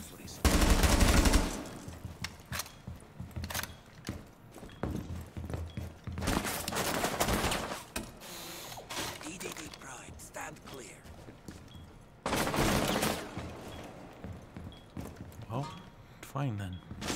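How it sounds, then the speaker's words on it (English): Bursts of automatic gunfire in the tactical shooter game Rainbow Six Siege, loud rattling volleys near the start, middle and end with quieter shots and footsteps between, under frequent talking. "They're shooting all over this place."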